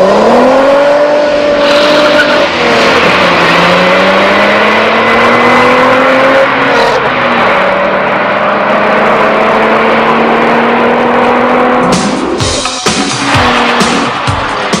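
Renault 25 V6 turbo engine, a 250-horsepower car, revs and accelerates loudly through rising gear pulls with pitch climbing and dropping at each shift, then harsh rougher bursts near the end.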